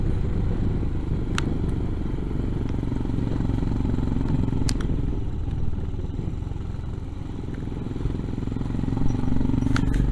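A Royal Enfield Himalayan motorcycle engine running steadily on gritstone moorland near The Roaches, a loud continuous mid-pitched drone with a few faint clicks, close and without pause.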